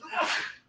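A single sharp sneeze bursts out close by, a quick breathy explosion lasting under a second.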